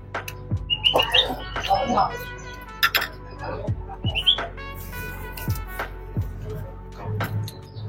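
Bird chirps and squawks ring out intermittently over a busy background of people talking and clattering dishes in a Jakarta restaurant.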